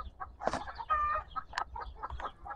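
Native chickens cluck in their coop in a quiet, irregular string of short calls, one drawn-out squawk in the middle, heard close up with no talking.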